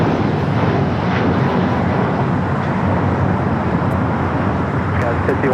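An American Airlines heavy jet bound for JFK taking off from runway 25 right at LAX, a loud sustained broadband engine roar filling the whole stretch, with talk over it.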